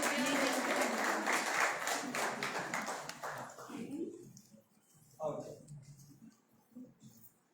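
A crowd at a prize distribution event applauds loudly and continuously, then the clapping fades out and a voice starts speaking.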